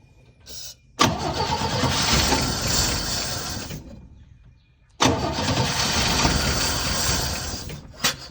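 A 1972 Chevy C10 pickup cranks and catches twice, each start roaring into a loud, steady run for several seconds before cutting out, close by.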